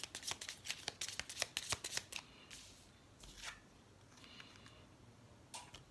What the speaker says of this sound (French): Je vais continuer à tirer quelques cartes.